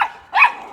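A pet dog gives two quick barks, the second louder, close to the microphone indoors.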